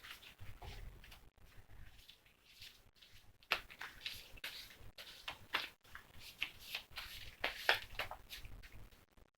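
Quiet papery riffling and soft taps of cards being shuffled, in uneven bursts with a few sharper clicks, close and low in volume.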